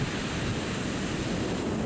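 Pacific Ocean surf and wind at a beach make a steady, dense roar of breaking water and rushing air that stays close and even throughout, with no voices.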